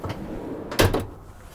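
A MITS alloy drawer system inside a Jeep Gladiator canopy slides and knocks shut, a brief hollow metallic thud with a short rattle, heard close and alone over faint background noise.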